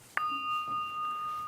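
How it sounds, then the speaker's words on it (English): A meditation bell is struck once to begin a session, giving a clear single ding that rings on as a steady, fairly quiet sustained tone in a calm room. "I will ring this bell."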